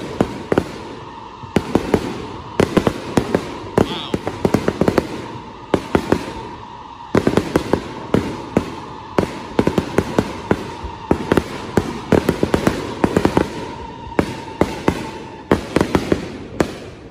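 Fireworks bursting overhead at a Fourth of July display, a long run of sharp, loud booms and crackles in irregular rapid bursts, some overlapping, with a sustained hiss between them.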